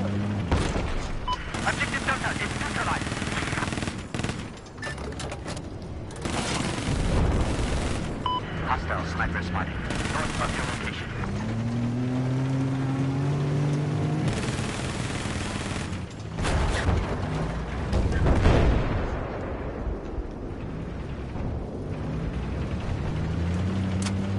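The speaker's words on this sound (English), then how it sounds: "are getting blown out by C4" Repeated C4 blasts and gunfire in a video game, booming bursts spread through the clip alongside steady noise, with a person talking over much of it.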